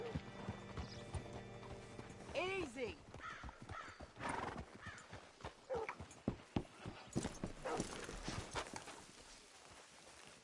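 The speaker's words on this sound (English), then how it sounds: "Hitch your horse up here." Hooves clop and a horse whinnies loudly in the Red Dead video game as the animal is brought to a hitching post, the neigh rising early, then uneven hoof steps and footfalls, with a brief spoken word.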